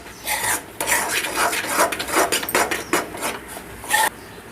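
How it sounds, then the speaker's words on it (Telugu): A spoon scrapes and stirs thickening corn flour halwa in a pan, with repeated rasping, clattering strokes in an irregular rhythm, close and fairly loud with no talk. "ఇలా దగ్గర పడేదాకా మనం తిప్పుకుంటూనే ఉండాలి."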